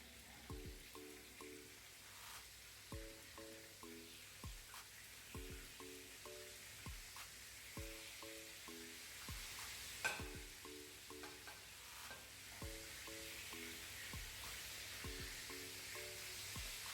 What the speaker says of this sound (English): just coat them in some flour and then just dip them in the oil